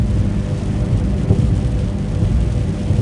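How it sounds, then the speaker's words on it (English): Heavy rain and low thunder rumbling around a car driving through a thunderstorm in New York, a dense, steady wash of noise with no voices. "I am driving literally in the middle of a thunderstorm."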